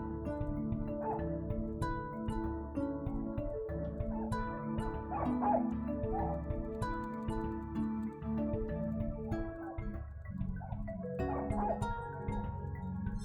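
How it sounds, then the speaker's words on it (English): In a Nancy Drew video game, a dog barks and yips from behind a closed door, the muffled barks sitting under a steady background music score. "The barking is coming from behind this door."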